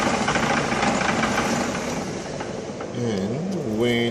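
An old lathe cuts a few thousandths off a metal part, giving a steady grinding, rumbling machine noise, close and fairly loud; toward the end a voice-like tonal sound joins the noise.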